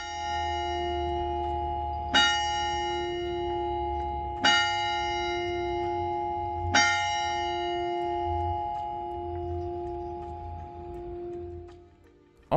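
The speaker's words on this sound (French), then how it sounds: "je vous laisse découvrir la cloche du beffroi. Cette cloche rythme encore la vie des Amiénois en marquant les heures." The bell of the Amiens belfry strikes three times at slow, even intervals, each stroke clanging bright and full before a long humming tone lingers, with faint low rumble underneath.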